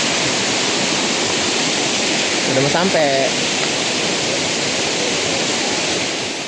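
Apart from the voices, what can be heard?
waterfall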